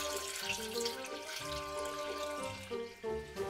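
Four cups of water pour steadily into a container for homemade pumpkin juice, a continuous close splashing whose pitch shifts as the level rises, with no talking.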